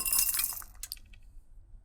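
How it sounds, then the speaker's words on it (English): Glass breaks in a bright, loud crash, followed by scattered tinkling shards that grow sparser and fade within two seconds. "The glass is broken."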